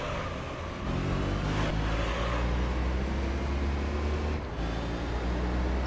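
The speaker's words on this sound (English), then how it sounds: "And I can actually hear the car now for the first time to see what it really sounds like" Racing car engine in Gran Turismo 3: A-Spec, a loud, sustained droning roar at high revs with a slight dip near the start and another briefly toward the end, with no talk.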